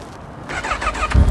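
A Honda CB1000 motorcycle engine rumbles close by, a steady mid-pitched running note that swells louder toward the end, with no talking over it.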